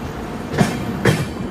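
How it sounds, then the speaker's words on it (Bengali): Howrah–Puri Superfast Express (12837) pulling out of the Jajpur Keonjhar Road station platform, two sharp rail clanks of coaches passing over joints standing out against a steady rolling rumble, close by with no talk. "এই জাসপুর কেওনঝড় রোড প্ল্যাটফর্ম ছেড়ে বেরিয়ে যাচ্ছে আমাদের গাড়ি"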